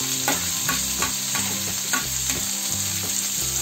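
Chopped onion and tomato fry over medium heat in a pan while being made into aloo bharta. A loud, steady sizzle runs throughout, broken by close, rhythmic stirring scrapes and clanks, with no talking.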